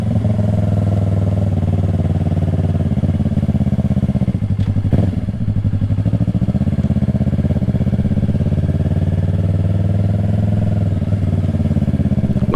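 Engine of a 2020 Yamaha R3 motorcycle running steadily, a loud continuous drone with a low throbbing hum and a brief clatter midway.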